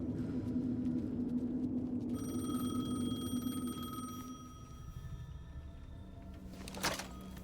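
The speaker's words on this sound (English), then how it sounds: "The payphone was ringing." A payphone rings in Alan Wake 2 with steady electronic bell tones over a low ambient rumble, and the ringing cuts off sharply near the end.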